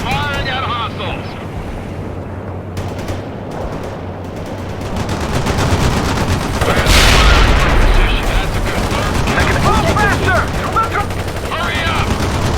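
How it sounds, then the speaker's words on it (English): Sustained gunfire and explosive bursts rumble through a World in Conflict battle, loud and dense, with a heavier blast in the middle, over continuous wind-like noise and radio voice chatter. "Firing at hostiles"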